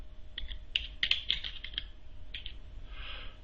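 Keys clatter on a computer keyboard as a SQL query is typed, quick irregular clusters of clicks in the first half, then a couple of later taps, close and clear over a faint background hum.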